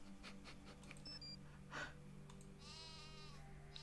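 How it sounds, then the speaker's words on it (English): Sheep bleating in a Nancy Drew adventure game, one wavering bleat set against a steady low in-game music drone, faint and fairly distant, with no voices over it. "oh, sheep. Sheep."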